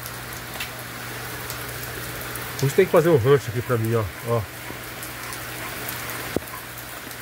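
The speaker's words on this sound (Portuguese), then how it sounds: "Ai, a chuva tá aumentando." Heavy rain falls steadily on a farm shelter during a rainy Sunday of planting cassava and corn, a constant close hiss beneath someone speaking Portuguese in the middle of the clip.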